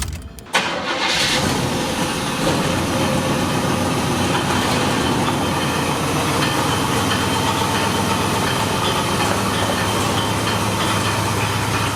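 A 1989 dually truck's big-block engine cranks and catches, then settles into a loud, steady, rumbling idle that runs on evenly; the engine is not running right and does not rev up properly.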